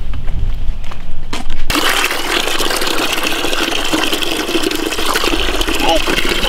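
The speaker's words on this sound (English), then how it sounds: "Let's go fill it up with water." Water gushes into a bucket from a tap, starting abruptly and running as a steady, close, splashing rush, with voices in the background.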